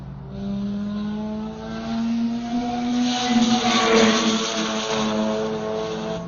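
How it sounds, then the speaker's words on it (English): A Mazda FD RX-7 with a rotary engine howls past on the Buttonwillow race track, a loud sustained buzzing drone that rises and swells as it nears, then fades slightly with its pitch easing. "That right there is the sound of Rotary Machine. That is Henry Lamb and his FD RX-7."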